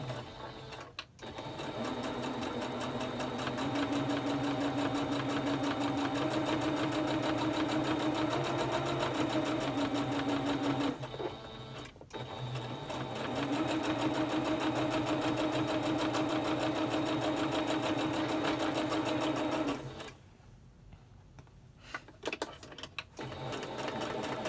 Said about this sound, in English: Stitch 1 line here to sew them together.